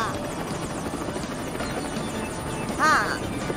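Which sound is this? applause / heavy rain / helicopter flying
helicopter flying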